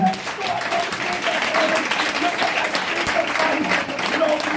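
A church congregation at a Pentecost service applauds in a steady, dense wash of clapping, with voices and a sustained tone mixed beneath.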